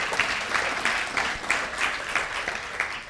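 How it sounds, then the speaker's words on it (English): An audience at a GIS health presentation claps together in a steady, even burst of applause that carries through the whole moment without any voices. "Clapping is okay."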